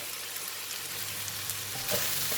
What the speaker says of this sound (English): We just continue to cook until the onions become soft